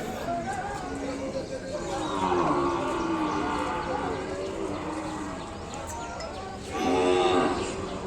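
Ongole cattle low at a busy livestock market, with drawn-out moos rising through a steady hum of crowd voices and bustle.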